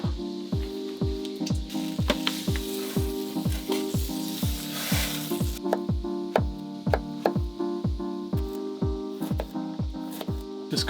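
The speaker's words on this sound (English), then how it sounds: "Just cooking up some tempeh here" Tempeh sizzles steadily in a hot pan on a van camp stove, with a string of sharp regular ticks and scrapes from stirring, and no voices.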